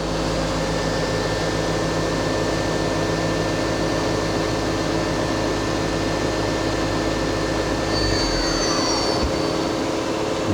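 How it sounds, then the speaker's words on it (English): A Mazak SQT-200MY CNC turning center's main spindle runs at 3000 RPM, a steady, fairly quiet mechanical hum with a constant whine that shifts in pitch near the end. "Start your main spindle. That's 1000 RPM. Spindle's nice and quiet. That's 2200. That's 3000."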